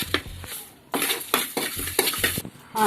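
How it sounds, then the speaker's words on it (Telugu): Coriander seeds and fenugreek dry-roasting in a pan for a cucumber chutney, with repeated scraping, stirring and rattling of seeds against the metal in short bursts, close and fairly loud. "ముందుగా ధనియాలు మెంతులు వేపుకొని పక్కన పెట్టుకోవాలి"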